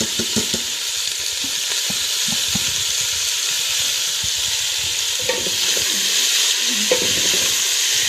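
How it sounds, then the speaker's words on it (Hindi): Fava beans and potatoes frying with onions and green chillies produce a loud, steady sizzle and hiss, broken by frequent close stirring scrapes, with no voices. "अब मैं साथ ही इसके प्याज और सब्ज़ मिर्चें डालूंगी।"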